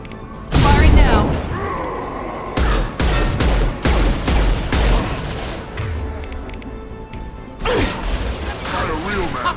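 Weapons fire in a Mass Effect 2 sci-fi firefight: loud, close bursts of gunfire and heavy impacts crack out in clusters, with brief lulls between volleys and game dialogue speaking over the action.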